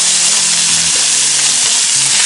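A ribeye steak hits a smoking-hot Stargazer cast iron skillet, giving a loud, close, continuous searing sizzle that holds steady throughout.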